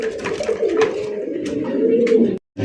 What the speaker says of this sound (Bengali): এখানে হচ্ছে একটা বোম্বাই কবুতরের কালেকশন